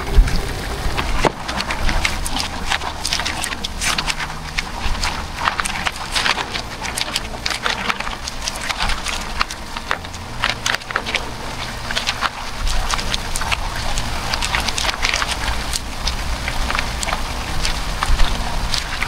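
Heavy rain pours steadily outdoors at night by water where fish are being caught during a thunderstorm, a dense, constant hiss with scattered sharper drop impacts, no speech.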